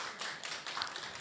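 A church congregation claps faintly to welcome a new young friend to the service, soft scattered hand claps that sound distant and thin, rising and dipping slightly over a brief moment.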